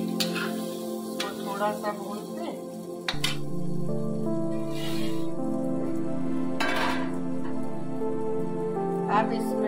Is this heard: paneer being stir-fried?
yes